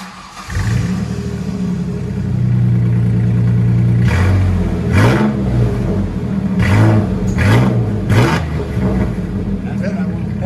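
A Ford Ranger 3.0L V6 with Cherry Bomb glass pack exhaust idles with a deep rumble, then is revved in four sharp blips that rise and fall one after another, loud and close.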